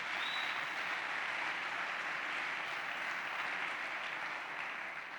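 Church congregation applauds the Lord during a sermon, a sustained, even sheet of clapping from many hands that stays level and soft in the room before easing off at the end.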